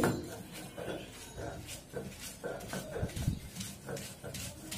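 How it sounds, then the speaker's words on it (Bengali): Dried fish being ground into a mash, a repeated series of rough rubbing and scraping strokes in a steady back-and-forth rhythm, close and moderately loud. "শুটকিগুলো এখন বেটে নিচ্ছি"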